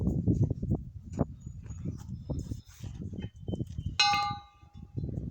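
A church bell, its clapper swung by hand, gives one bright ringing strike partway through that hums and fades, preceded by low shuffling handling noise.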